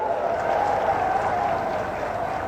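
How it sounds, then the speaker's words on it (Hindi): An audience at an election rally for candidate Saroj Pandey in Korba claps steadily, a dense, fairly loud wash of applause that lasts the whole moment with no pause. "जोर से ताली बजाइए सरोज बहन के लिए"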